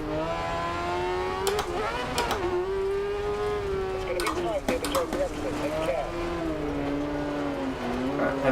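Rallycross race cars in DiRT Rally 2.0 career mode, Kross Cart class, roar through the Joker lap with rising and falling engine pitch as several cars pass, heard under continuous talking.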